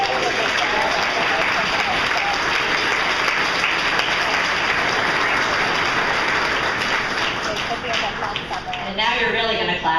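Sustained, dense applause from a benefit gala audience, a steady roar of many hands clapping that holds at an even level throughout, close and full, with some voices mixed in.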